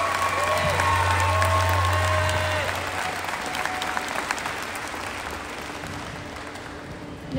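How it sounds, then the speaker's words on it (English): Audience at the Ganado High School 2022 graduation applauds loudly, a dense sustained clatter of many hands that gradually tapers off, with some voices and crowd noise mixed in. "Let's give her a round of applause again."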